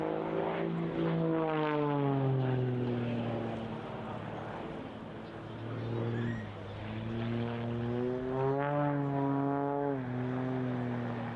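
An Extra 330SC aerobatic propeller plane flying past at an airshow, a droning engine and propeller note that rises and falls in pitch with Doppler sweeps, loud and sustained as it passes.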